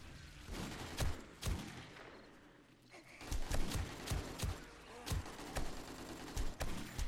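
Desert Eagle pistol shots in the survival horde game 7 Days to Die, Darkness Falls mod: a run of sharp, single gunshots spaced irregularly, about a dozen in seven seconds, loud and close with faint breathing between.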